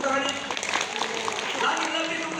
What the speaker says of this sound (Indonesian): Lagi, lebih tepuk tangannya.